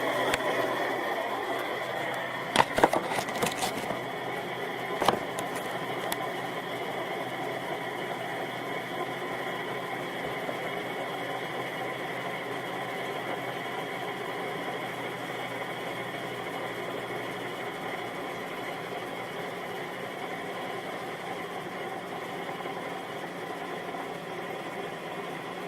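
A homemade dual rotor pulse motor runs steadily throughout, a constant mechanical hum with fine rhythmic buzzing and a few sharp clicks near the start, heard up close with no talking.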